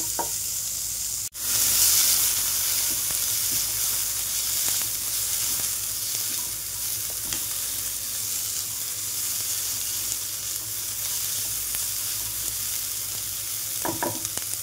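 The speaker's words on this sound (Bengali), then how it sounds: "কড়াইতে যে পরিমাণ তেল আছে এর মধ্যেই আমি পেঁয়াজ, রসুন আর হচ্ছে শুকনো লঙ্কা দিয়ে এগুলোকে একটু" Onion, garlic and dried chilli fry in hot oil in a wok, producing a steady, close, loud sizzle with occasional stirring scrapes and no talking.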